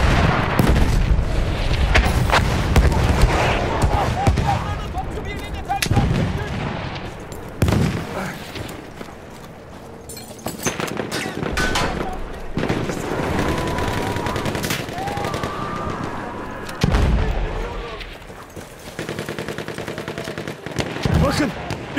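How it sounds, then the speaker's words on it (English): Battlefield 1 combat plays as a dense wall of gunfire and heavy booming artillery blasts, loud and continuous over the whole stretch, with in-game voices calling out at times. "Enemy coordinates have been sent to our artillery."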